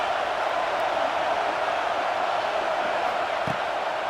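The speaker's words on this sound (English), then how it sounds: "Decibels rising as the crowd gets behind this defense on 3rd down." A stadium crowd in the EA Sports College Football 26 video game roars steadily, a dense sustained wash of cheering noise at moderate volume with no distinct voices standing out.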